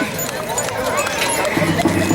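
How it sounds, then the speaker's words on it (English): Horses walk along a street during a Christmas parade, their hooves clip-clopping in an irregular rhythm on the pavement, mixed with crowd noise and people talking in the background. "The horsemen are followed by the horses."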